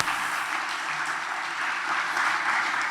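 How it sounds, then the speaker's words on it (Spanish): Church congregation applauding steadily, a dense, even wash of many hands clapping with no pauses throughout. "Un aplauso, hermanos"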